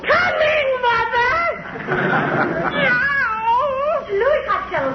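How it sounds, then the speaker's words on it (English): A cat meows and wails in drawn-out, rising and falling cries, loud and close, continuing almost without pause. "Louis Costello, stop choking that cat."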